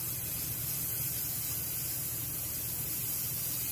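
Steady airbrush spray with no pauses, a close, even hiss of paint mist carrying on alone from start to finish.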